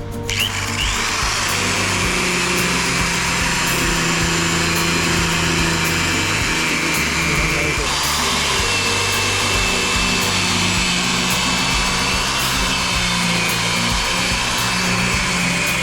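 A power tool whines continuously and loudly while cutting threads out of a damaged truck tire, a high steady buzz with a brief dip in pitch partway through, alone without talk.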